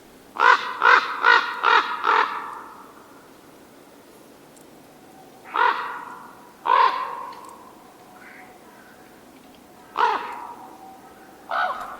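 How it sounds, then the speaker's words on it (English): A raven croaks in loud, harsh bursts: a rapid run of five, then spaced pairs and singles, with quiet gaps between. "So they do more of a croaking noise. The raven sounds more like this."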